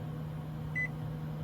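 A microwave oven running off a 2000-watt inverter and lithium-ion sub-battery inside a car gives one short, faint electronic beep over a steady low hum, no talking.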